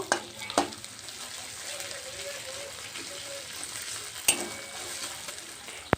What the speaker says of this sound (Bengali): জিরে আর ধনেটাকেও ভালো করে তেলের মধ্যে একটু ভেজে নেব